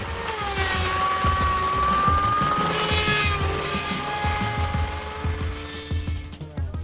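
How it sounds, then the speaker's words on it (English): A portable petrol-engine machine strips fique fibre from leaves, producing a steady, loud engine drone with a faint whine that runs throughout with no talking. "The portable stripping petrol engine is the most common one."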